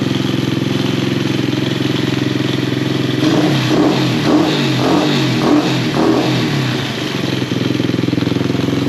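A YCF Pilot 125 dirt bike engine runs loud and close, idling steadily before a series of rhythmic revs rise and fall over it, then settling back to a rough idle.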